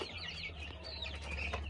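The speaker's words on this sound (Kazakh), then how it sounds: "Инкубатордағы балапандар." Chicks in an incubator peeping with repeated high, thin chirps over a steady low hum of the machine, close and continuous.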